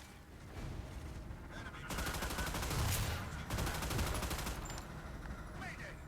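Rapid ship gunfire in the Battleship video game, dense crackling bursts that swell loud and steady over several seconds, with a short gap midway before another sustained volley.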